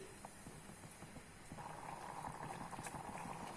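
A pot of chena payar moloshyam, a yam and bean curry, bubbles quietly, giving soft, irregular pops and gurgles that grow slightly busier toward the end, with no one speaking.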